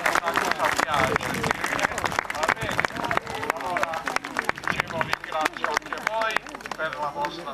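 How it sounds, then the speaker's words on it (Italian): An audience applauds children at a 2009 youth Way of the Cross church event, dense clapping throughout with lively crowd chatter and voices mixed in. "Allora fate voi un applauso a questi bambini"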